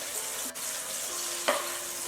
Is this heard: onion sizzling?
yes